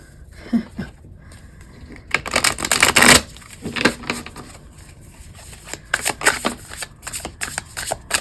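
Tarot or oracle cards being shuffled for a pick-a-card reading, with bursts of riffling and soft slapping that peak loudly midway, then return in shorter rustling flurries, close and with no talk over them.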